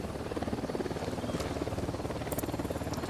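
Helicopter in the Ghost Recon Wildlands video game, its rotor giving a steady, rapid pulsing thrum that holds at an even, fairly loud level for the whole stretch.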